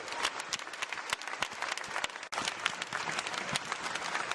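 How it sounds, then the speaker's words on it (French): Audience applause at the Class 40 trophy ceremony for the 2014 Route du Rhum sailing race, crisp individual claps from a moderate crowd, steady and close, with one brief dip midway. "nous vous applaudissons bien fort"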